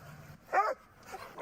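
A reactive dog barks once, a sharp mid-range bark close by, followed by quieter yips and whimpers over a low background.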